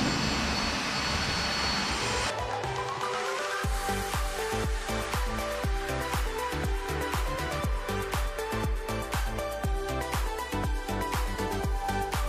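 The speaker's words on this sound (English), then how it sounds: "now let me make the holes" Power drill boring holes through the metal frame of a surgical table being converted into a folding dinner table, using its smallest bit; a loud, continuous whine with rapid rhythmic chatter runs close up throughout after a brief lead-in.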